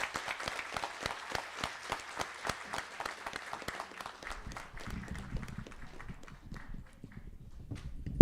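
Clapping for a speaker at a mining-technology groundbreaking in Lusaka, Zambia, sparse and rhythmic at first with distinct claps that thin out and fade, while a low background rumble rises toward the end.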